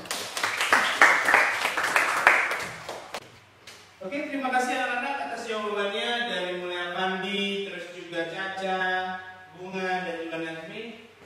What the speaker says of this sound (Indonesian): silakan kita tepuk tangan buat kita semua